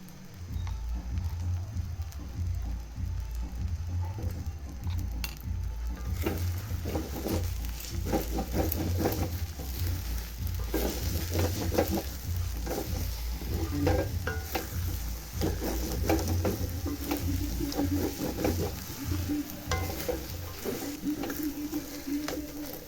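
Semolina cooking in a pan with two spoons of ghee, a soft continuous sizzle under steady stirring and scraping, quiet and close.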